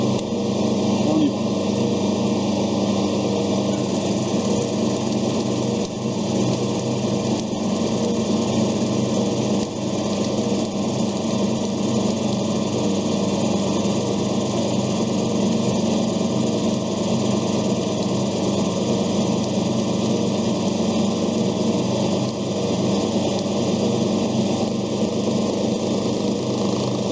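Metal lathe taking a facing cut with a carbide insert, a steady machine whir and cutting hum running continuously and fairly loud throughout, with a voice talking over it.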